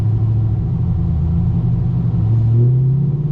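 A car engine rumbles steadily from inside the moving vehicle, a continuous low drone with slight swells in pitch as it drives, with no voices over it.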